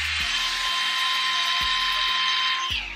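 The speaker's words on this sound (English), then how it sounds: "I got a drill today." A handheld cordless drill whirs steadily at high speed, with short bumps in pitch as the trigger is squeezed, close and loud.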